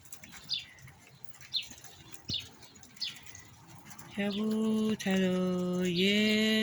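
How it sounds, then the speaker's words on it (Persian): Pigeons being fed wheat flap and call nearby, a run of short repeated chirps giving way to a loud, steady tonal call that holds to the end. "چه کبوترهای خوشگلی. گندم میخورن و هر روز صبح باید گندم بهشون بدیم."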